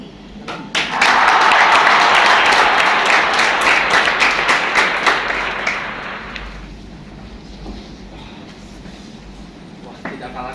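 Audience at a school poetry reading contest bursting into loud, dense applause that holds steady for several seconds, then fades away, with a voice speaking briefly over the clapping.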